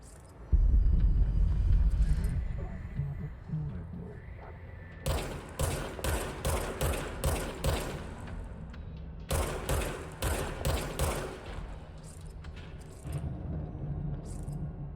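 A gun fires in the Control video game in two bursts of rapid, evenly spaced shots, loud and close, after a low rumbling opening, with quieter single shots near the end.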